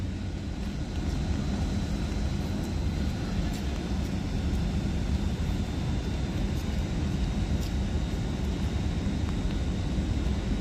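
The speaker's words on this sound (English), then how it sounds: "Now departing is going to be the 10:54 Avanti West Coast service for Liverpool Lime Street." Avanti West Coast Class 807 train pulling out of Liverpool South Parkway station on the West Coast Main Line, a steady, loud low rumble and roar that holds throughout with no talk.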